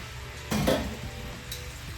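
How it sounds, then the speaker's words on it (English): Drained and rinsed white beans tipped into a hot pan, a short burst of sizzling when they land, followed by a fainter hiss and one small crackle. "I am going to go over and grab my white beans that are drained and rinsed. And I'm just going to dump those in"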